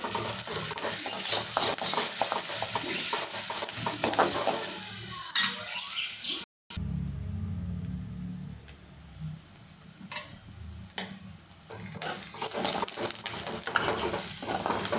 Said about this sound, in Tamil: வெங்காயம், ரெண்டு கருவேப்பிலை சேர்த்துட்டு நல்லா மிக்ஸ் பண்ணலாம்.